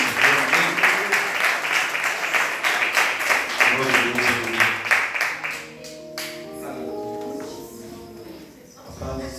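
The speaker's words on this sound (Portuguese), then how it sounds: "As palmas que louvem a Deus." Church congregation clapping hands in praise at an evangelical service, a steady rhythmic beat of many hands for about six seconds that gives way to sustained organ or keyboard tones with a voice over them.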